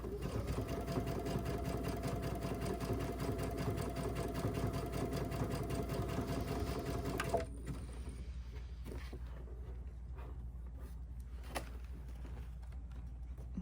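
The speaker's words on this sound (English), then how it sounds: "So now when we keep going, I am going to stitch a little bit closer." A sewing machine stitches a coiled rope bowl, running with a steady close whir for about seven seconds before stopping abruptly, leaving quiet handling noises and a few soft clicks.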